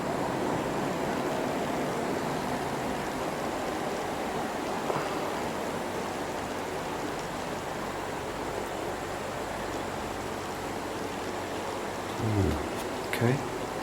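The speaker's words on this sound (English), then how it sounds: "That river never runs out of water." A river in Germany's Black Forest flows without a break, a broad hiss of rushing water that stays even throughout, with a couple of faint knocks near the end.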